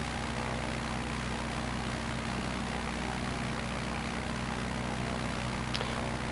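A propeller airplane engine in a flight simulator video game drones steadily and loudly throughout, a dense, continuous hum with no pauses.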